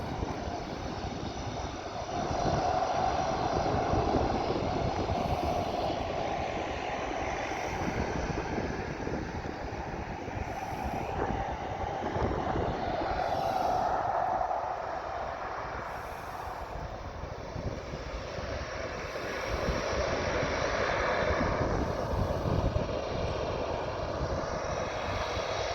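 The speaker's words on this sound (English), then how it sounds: "Water bomber getting ready to take off." Water bomber aircraft engines run steadily while the plane readies for takeoff on a fire-season channel, a continuous broad drone with wind noise rising and falling for the whole stretch.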